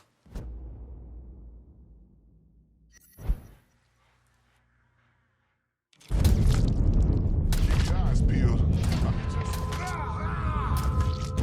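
A single sharp gunshot in Mafia 3, a loud close bang followed by a decaying low rumble, then another thud, a short silence, and loud continuous noise with voices.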